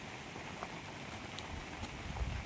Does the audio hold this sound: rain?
yes